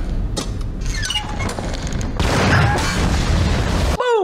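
A bomb explosion in an action movie, a loud sustained rumbling boom with debris and crackle swelling partway through, followed by a brief whooshing sweep at the end.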